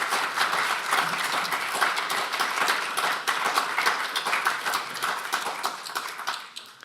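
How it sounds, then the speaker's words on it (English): A meeting audience gives a round of applause for Lavinia and Juliana, a continuous patter of clapping at moderate distance that fades toward the end, with no talk over it. "There was a round of applause for you."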